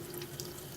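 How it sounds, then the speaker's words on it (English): Tap water running onto a whetstone for freehand knife sharpening, a steady close hiss and splash of flowing water, short and continuous with no speech. "Let some water run onto the stone"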